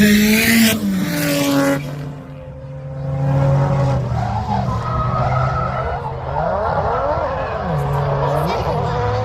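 Japanese drift cars at a Castle Combe UK drift championship session, including a PS13 and a 1000bhp Chaser, skid with loud tyre squeal and revving engines, tyres howling in sweeping slides while a commentator talks over them throughout.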